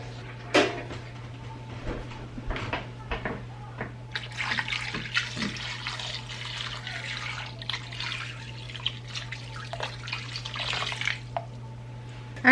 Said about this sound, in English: with some filtered water, I'm going to cover this